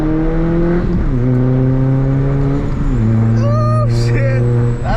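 A Volkswagen MK4 GTI 20th Anniversary Edition engine revs loudly and continuously with no downpipe fitted, its pitch stepping up and down with a few throttle blips and a raspy, unmuffled edge.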